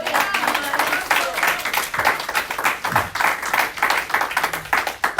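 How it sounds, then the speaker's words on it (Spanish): Applause from a church congregation during a sermon, sustained dense clapping from many hands lasting the whole stretch, fairly close and steady. "Yo esperaría un aplauso."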